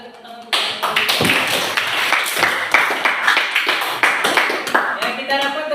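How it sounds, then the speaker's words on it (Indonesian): Students in a classroom clap together in a loud, rhythmic patterned sequence of sharp, closely spaced claps that runs the whole time after a brief quiet start. "Silakan tepuk tangan."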